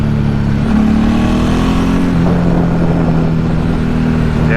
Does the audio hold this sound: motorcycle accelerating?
yes